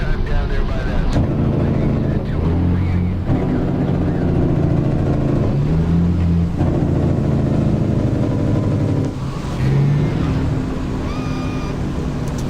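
Truck engine fitted with exhaust stacks in American Truck Simulator, a steady low rumbling drone that runs through the whole stretch, with someone talking over it throughout.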